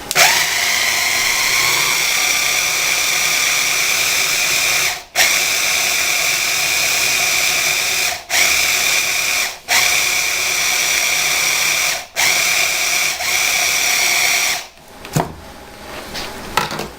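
A food processor whirs through a batch of hummus in long, loud, steady runs. It is cut by a few brief pauses for stirring before it stops near the end, with no talking.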